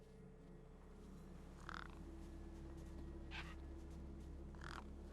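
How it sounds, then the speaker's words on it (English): Crows caw three times, spaced apart, at a feast in the video game Beyond a Steel Sky, over a steady low background hum. "No way I was going to get between those birds and their feast."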